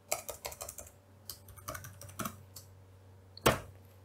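Code is typed on a computer keyboard, with bursts of close, crisp key clicks followed by scattered single taps and one sharper final keystroke.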